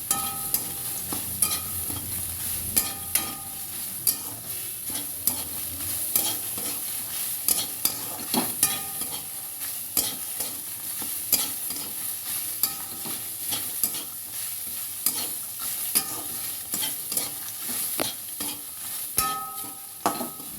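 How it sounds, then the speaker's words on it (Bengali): Onion dry-roasting in a dry wok (kadai), a long stretch of continuous scraping and stirring with a spatula, repeated sharp scrapes over a faint background hiss, close and fairly loud. "ভালো করে আগে কাঠখোলায় জিনিসটাকে আমাদেরকে ভেজে নিতে হবে"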